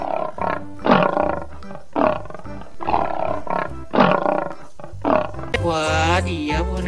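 A lion roars in Jurassic World Evolution 2, a series of loud, close, growling roars in a steady rhythm, ending in a longer, higher, drawn-out roar.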